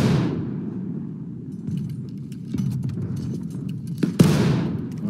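Musket gunfire in the War of Rights battlefield game, a couple of sharp cracks, one near the start and a loud close one near the end, over a low rumbling background of distant battle noise.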